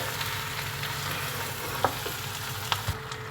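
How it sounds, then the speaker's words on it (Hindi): Beef pieces fried with spices in a pot for Bengali gosht hiss and crackle continuously up close, broken by a couple of sharp spoon knocks against the metal, with no voices. "तो अब ये मसालों के साथ भी हम इसे 2 मिनट अच्छी तरीके से गोश्त को फ्राई करेंगे, मसालों को भूनेंगे।"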